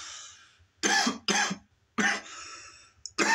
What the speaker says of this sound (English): That right there is how you keep the coughing to a minimum.